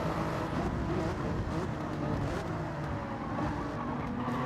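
A Gr.3 race car in Gran Turismo 7 holds fifth gear at high revs on a long straight at Grand Valley Highway, giving a loud, constant droning engine roar with no gear shifts and no talking.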